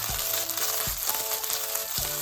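Leftover turkey burger patty, pressed flat and seared on high heat, sizzles steadily in a pan while being stir-fried and broken apart, with a few sharp scraping stirs cutting through the constant frying hiss.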